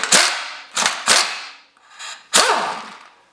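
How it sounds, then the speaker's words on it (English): A 9/16 inch bolt on a Jeep CJ7 shock mount is worked loose, giving four sharp, loud ratcheting snaps with short ringing decays, spaced irregularly, close by and without talk. "Finally, a bolt that comes out without breaking"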